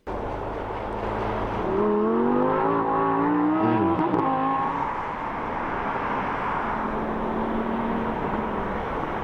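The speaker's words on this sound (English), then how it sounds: "Why is Ferrari secretly testing this V10 Lamborghini? STO." Lamborghini Huracán STO with its V10 engine revving up and holding a high, rising note, loud and close, then settling into a steady drone.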